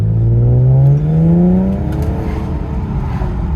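A 2018 Infiniti Q50 fitted with AMS intakes revs up in one sharp rising burst, then drops back to a rumbling idle, loud and close with no voices.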